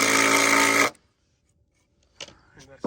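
Power drill boring holes into hardwood for building saw horses: a loud, steady whine for almost a second that stops abruptly, followed by silence, then brief voices.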